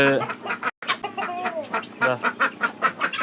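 Close-up rhythmic clucking from a brown hen, a rapid series of short calls with a brief gap near the start.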